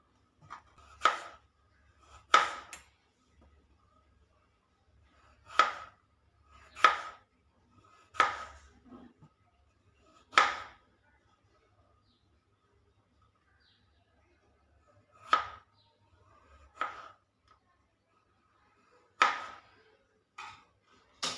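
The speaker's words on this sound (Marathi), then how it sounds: "बटाटे हे आपण चिरून घेऊया" Potatoes being sliced with a knife, a series of crisp, close chopping strokes in short irregular bursts separated by quiet pauses.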